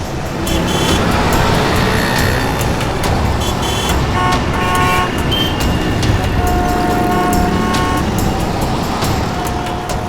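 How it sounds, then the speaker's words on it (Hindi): Street traffic with cars passing, engines rumbling and occasional horn toots, loud and continuous, no clear single car pulling away. "अरे यार ये गाड़ी भगा रहा है।"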